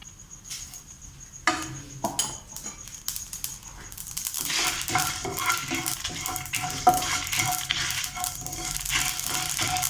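Cloves, dried chillies and poppy seeds dry-roasting in a pan for roadside salna, with light rattling and scraping stirs, sparse at first, then a denser crackling sizzle.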